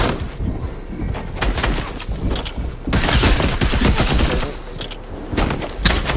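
Gunfire in a shooter video game crackles in irregular rapid bursts, dense and loud, with a heavier flurry midway through and scattered shots on either side.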